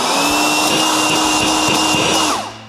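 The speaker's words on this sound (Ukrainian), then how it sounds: "Вона працює як пилосос." A Dnipro-M leaf blower switched to vacuum mode with a collection bag fitted, roaring steadily and loudly up close before starting to wind down at the end.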